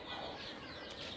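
Hens clucking softly at a distance, a faint, steady burst of fowl chatter with no talk over it.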